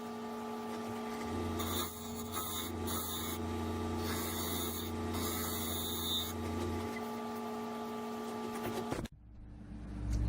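An Indian rosewood bowl being sanded on a wood lathe produces a steady whirring hum with raspy, intermittent scraping bursts over about nine seconds, ending abruptly as the machine stops, with no talk.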